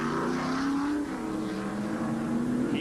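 A stock car pulls out of the pits during the 1989 Valleydale Meats 500 NASCAR race, a steady loud engine drone with a held pitch that dips and climbs again.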